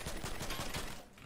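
Rapid video game gunfire crackles in a dense automatic burst, loud and continuous through a short moment before easing slightly at the end.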